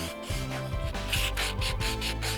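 Close hand sanding of rough wooden edges with sandpaper, a dry scratchy rasp in short back-and-forth strokes, steady and moderately loud with no voices.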